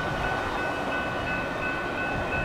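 A fast westbound Union Pacific stack train rolls by as a dense, steady rumble with a faint high tone on top, heard briefly and fairly far off, with no talking.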